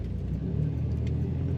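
A 1985 Buick Grand National's turbo V6 engine idles with a steady, low, throaty rumble, close and continuous, with no voices.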